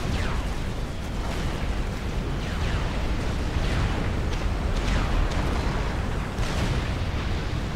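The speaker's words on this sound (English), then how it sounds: "And that TML starts firing." Repeated launches and distant blasts from tactical missile launchers in a Supreme Commander: Forged Alliance 4v4 naval battle, a steady rumbling din of explosions and bursts with no voices.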